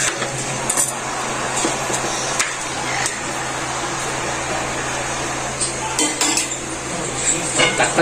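Washed mung beans added to a pot of simmering pork hock, with clattering of pots, utensils and metal scraping over a steady background hum, no talking.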